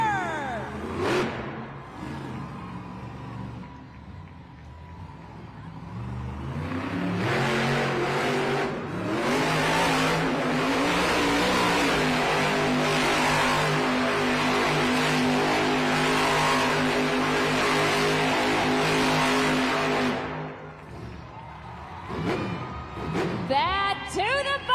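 Grave Digger monster truck engine revving loudly at an arena donut competition, a sustained roaring drone that swells and holds for about twelve seconds before dropping off, with crowd and announcer sound around it.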